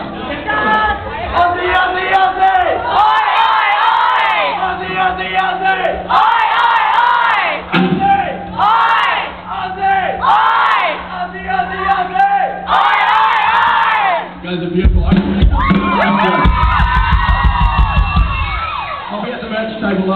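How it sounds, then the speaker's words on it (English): A live comedy audience chants the Australian call-and-response cheer, one voice leading and the crowd roaring back in loud, rhythmic bursts that repeat several times, building into shouting and whooping. "we've got like a cheer or a chant. And every time I say Aussie, you say oi"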